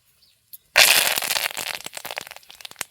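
Curry leaves are dropped into hot oil that already holds spluttering cumin and mustard seeds. A sudden loud burst of crackling sizzle fades into rapid popping and spitting over a couple of seconds.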